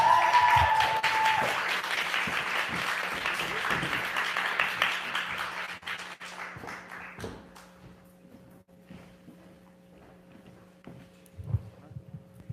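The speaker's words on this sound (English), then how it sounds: "Y'all give her another round of applause, please." Audience applause for someone speaker at the National Black Conference: loud, dense clapping fills the first several seconds, then thins out to scattered claps and faint room noise.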